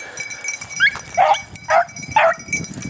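A young beagle pup bays in the field while running rabbits, three drawn-out yowling cries a half second apart, moderately distant, over background noise with a faint steady whine.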